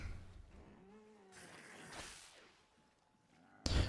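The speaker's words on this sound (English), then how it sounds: "these cats like just went psychopathic crazy for no reason" Cats yowling and caterwauling indoors, heard faintly as wavering, drawn-out wails with pitch slides, fairly distant, before a sudden loud burst at the end.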